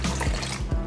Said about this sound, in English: 1/2 cup of water going in.